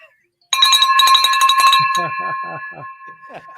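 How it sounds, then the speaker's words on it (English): A celebratory bell rings with bright, sustained metallic tones that hang in the air while voices talk over and after it. "ring the bell."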